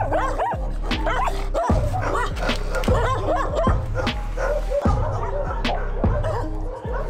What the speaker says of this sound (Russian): что у Татьяны Кудлай находится порядка 50 собак.